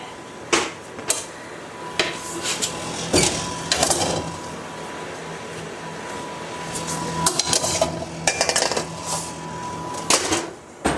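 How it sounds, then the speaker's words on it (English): Dishes being washed by hand in a home kitchen: scattered clinks, clatters and scraping knocks at an irregular pace over faint running water, with no talking. "I'm keep washing dishes so I can get done"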